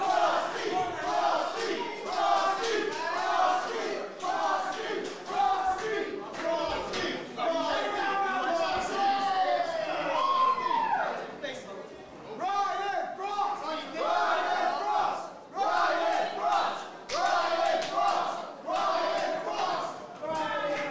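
A wrestling crowd at a six-man elimination event cheers and shouts continuously, with loud chanting voices and bursts of yelling surging and dipping under a lively, crowded arena atmosphere.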